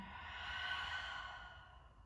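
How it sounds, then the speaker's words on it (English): A single long, deep exhale through an open mouth at the end of a slow vinyasa yoga flow, soft and airy, close and steady before fading out. "We'll take a final deep breath in. Open your mouth, breathe out."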